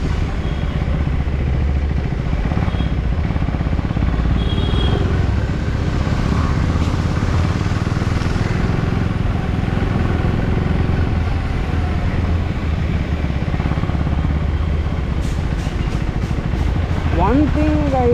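A Husqvarna Svartpilen 401 motorcycle being ridden, its engine a loud, steady drone mixed with rushing wind throughout, close to the rider, with faint chirps near the end.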